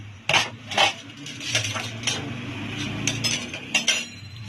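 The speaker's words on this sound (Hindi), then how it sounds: "अब इसको डिश आउट करके आपको मैं दिखाती हूँ।" Strawberry ice cream is scooped out with metal utensils, several sharp clinks and scrapes against a dish at irregular intervals, close by, with quiet pauses between and no speech.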